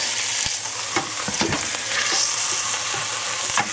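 Beef sizzles and fries steadily as it browns in a hot Pressure King Pro pressure cooker pot, with occasional scraping and stirring clicks from a utensil.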